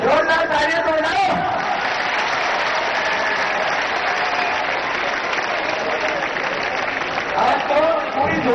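Audience applause at a rally on the Bharat Swabhiman Yatra, a dense, steady wash of clapping sustained throughout, with crowd voices and talk mixed in.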